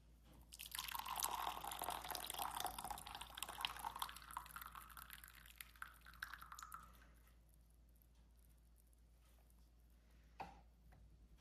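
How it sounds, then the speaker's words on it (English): Water poured into a gaiwan to brew Honey Orchid Fragrance tea: a soft, steady trickling stream for several seconds that tapers off into quiet, followed by a single faint drip or clink. "And I pour the water in at 3 o'clock."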